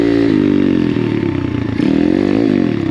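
An Apollo pit bike engine revs hard and steadily during a wheelie attempt, a loud, close buzzing drone with a brief dip in pitch midway before climbing again.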